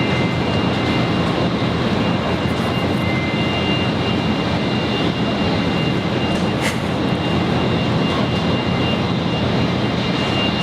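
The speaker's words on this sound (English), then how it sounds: "China Airlines A350 arriving from Taipei" A China Airlines Airbus A350 arrives at Brisbane Airport from Taipei, producing a loud, constant roar of jet engines at close range that fills the whole stretch with no speech.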